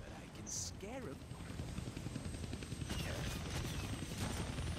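Helicopter in the Deadpool video game, a steady rotor drone running throughout at moderate level, with gunfire bursts and sound effects on top while a person talks over it.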